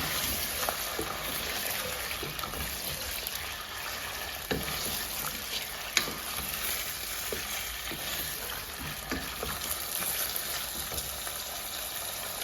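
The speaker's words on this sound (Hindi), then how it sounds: "तो चिकन को हमने तेज आंच पे जो है ना फ्राई करना है।" Chicken frying in a pot over high heat, a constant fine sizzle with faint bubbling and an occasional light clink, moderately quiet and steady with no voices.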